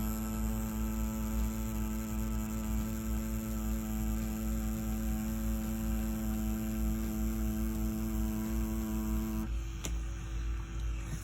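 Mummy rotary tattoo machine running, a steady close electric hum with a constant pitch that shifts slightly near the end, with no talking.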